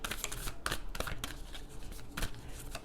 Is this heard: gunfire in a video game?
no